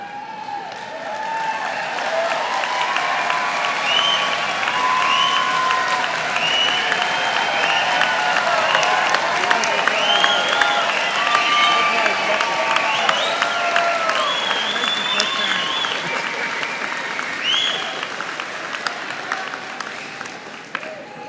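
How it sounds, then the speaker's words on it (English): Parents at a university spring convocation applaud the graduating students, loud sustained clapping from a large crowd with scattered cheers and voices mixed in, building quickly and holding for about twenty seconds. "parents can stand up and give them a big round of applause"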